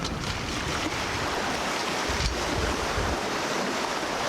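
Steady sea breeze of around ten knots rushes over a sailing yacht heading west toward Martinique in warm Caribbean weather, with waves washing continuously along the hull and wind buffeting the microphone, loud and unbroken with no voices.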